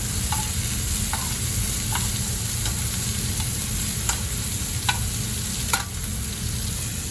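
Filet mignon and potatoes sizzle steadily in a hot pan, with a handful of light clicks and taps as the food is turned and moved.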